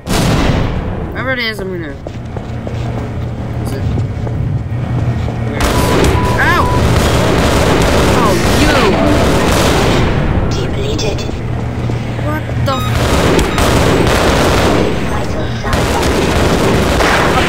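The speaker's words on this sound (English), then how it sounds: "Who's firing at me?" Gunfire and booming impacts in a Half-Life game running on the Source engine, with repeated sharp shots and rumbling blasts over a steady loud background while someone talks throughout.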